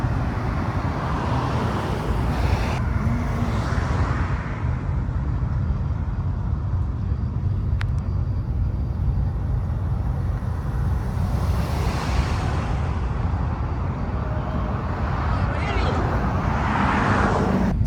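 Steady low rumble of cars idling and creeping in gridlocked traffic about 1.5 miles from a Route 66 cruise expo, a continuous broad road drone from start to finish with faint passing swells.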